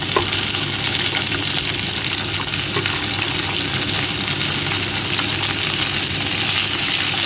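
Beans and bottle gourd fry in a pan alongside already-fried potato and eggplant, giving a steady, dense sizzle that runs evenly throughout without speech.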